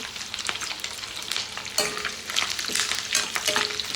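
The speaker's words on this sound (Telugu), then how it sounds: "ఇప్పుడైతే పచ్చిమిర్చి వేసుకున్నాము కరివేపాకు" Green chillies and curry leaves frying in hot oil in a home kitchen, a close crackling sizzle with stirring scrapes and pops throughout, no talking.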